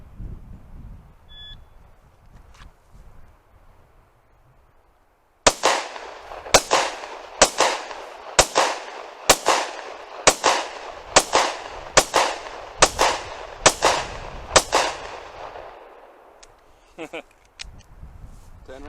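A rapid string of about ten sharp gunshots rings out in a shooting drill, loud and close, each crack separated by roughly a second after a quiet lead-in, with faint background murmurs before the firing.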